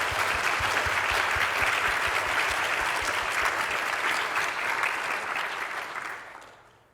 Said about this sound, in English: So a big, big round of applause, and thank you to all the people that helped us